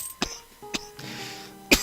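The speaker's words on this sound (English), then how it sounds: "Sorry about the coughing." Three sharp coughs at roughly even intervals, close and fairly loud, with a harsher throat-clearing burst near the end and a low hum underneath.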